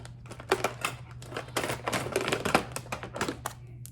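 Scissors snip through embroidered keychain fabric made on a Brother PE800/SE625 machine, a rapid run of close, crisp cuts and rustles over a low steady hum, with no talking.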